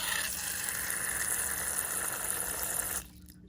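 Water poured into tarantula water dishes, a steady broadband trickle and splash lasting about three seconds before cutting off abruptly into quiet.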